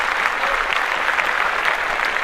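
A steady burst of clapping, dense and even, fills the room on a podcast after a financial planning webinar is announced, with no talk over it.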